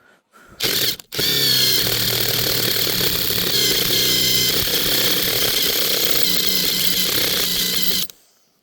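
A loud, high-pitched power drill runs steadily for about seven seconds, grinding hard into a steel hammer, then cuts off abruptly.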